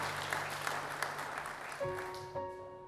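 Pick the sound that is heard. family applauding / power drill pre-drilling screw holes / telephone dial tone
family applauding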